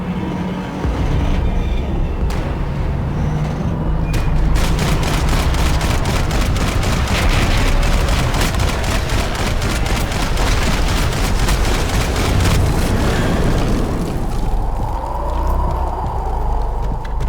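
Sustained gunfire from the video game Max Payne 3: loud, rapid automatic bursts crackle almost without pause, dense and close, tapering off near the end into a lower rumble.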